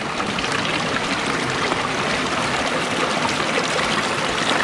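Creek water flowing steadily in a valley on a hiking circuit, a continuous loud close rush and trickle with no pauses and no voices.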